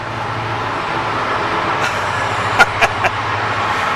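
A passing timber train rumbles steadily and low, with a few sharp metallic clanks near the end.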